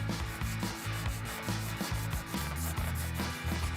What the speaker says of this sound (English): From that point, you can hand sand. This is 320. Get the pad wet.